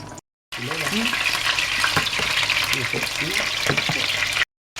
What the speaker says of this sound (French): nous avions mis l'huile de friture à chauffer pour frire nos bananes qui seront additionnées à la sauce après